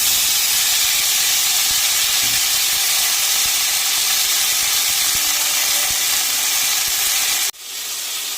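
Grapes drop into hot oil already frying with bay leaves, cardamom, dried chillies and cumin for a grape pickle, giving a loud, steady sizzling hiss that suddenly drops to a softer sizzle near the end.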